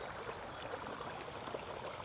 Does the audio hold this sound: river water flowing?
yes